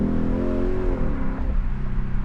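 A Lexus ISF with its muffler deleted, downshifting: a deep, loud exhaust note whose pitch falls and drops away, then settles into a rough, throbbing rumble, close and continuous.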